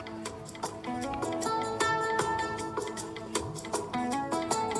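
Senegalese mbalax music recording with busy layered percussion and dense melodic instruments, driving and rhythmically choppy, playing continuously at moderate level with no voices over it.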